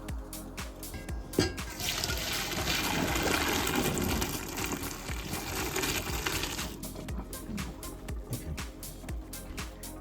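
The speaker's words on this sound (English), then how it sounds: "So now we're gonna drain our pasta because our pasta is done" Cooked pasta water pouring out of a pot into a strainer in a home kitchen: a continuous rushing, splashing flow that swells in the middle, with clattering and tapping before and after.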